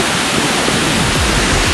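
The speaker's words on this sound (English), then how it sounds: "You're met with a beautiful surprise of the waterfall." A waterfall on the Adams Canyon hiking trail in Layton, Utah, roars as a loud, constant rush of falling water, close and unbroken.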